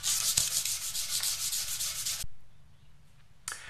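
Steady rhythmic strokes of 320-grit sandpaper rasp against a guitar's hard UV-cured polyester clear coat, close and fairly quiet, then stop abruptly before a brief final rub.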